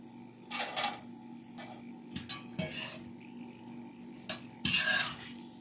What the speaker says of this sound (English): Shake off some of the oil.